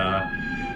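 A street siren wails steadily through the background for a brief moment on 2nd Avenue in New York City, its high tone holding over low traffic rumble.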